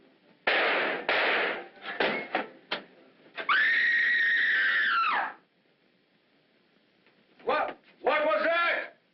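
Harsh, shrill screaming in an old 1945 film noir, several loud bursts with one long sustained scream in the middle, then a final piercing cry after a short silence.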